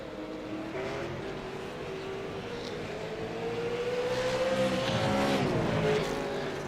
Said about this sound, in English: watch these guys racing bumper to bumper